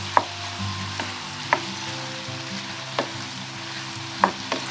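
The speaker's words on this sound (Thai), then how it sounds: "ผัดให้เข้ากันจนสุกเลยค่ะ" Pork and bell peppers being stir-fried in a pan: a continuous close sizzle with a few sharp spatula scrapes and knocks spaced about a second or so apart.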